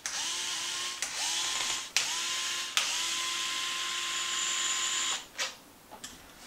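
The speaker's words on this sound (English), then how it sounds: "So let's take those four screws out." A power driver removes the shock screws from the lower arm of a Traxxas Maxx RC truck, giving several close whirring bursts of about a second each with clicks between them, then a few soft handling clunks.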